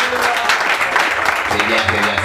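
A comedy club audience breaks into applause, bursts of clapping that come and go with a voice talking over them.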